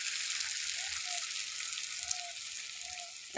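Ash gourd pieces with fish head frying in hot oil, giving a steady, soft sizzle with faint crackles throughout, close and alone without talk.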